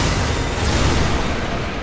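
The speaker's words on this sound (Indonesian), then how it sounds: "Kita ledakin aja mobilnya ya guys." A loud, sustained car explosion in Call of Duty: Modern Warfare 3, with a deep rumbling roar and dense crackle, filling the whole moment without any voices.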